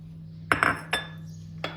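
Granulated sugar poured onto sliced watermelon in a food processor bowl for watermelon lemonade, heard as a few short clinks and rattles against the bowl over a steady low hum, close and fairly quiet.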